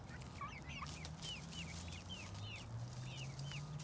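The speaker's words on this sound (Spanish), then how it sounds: "Ahí está el video de las gallinas." Hens cluck repeatedly in a yard at feeding time, a run of short, close calls over steady background noise, with no one talking.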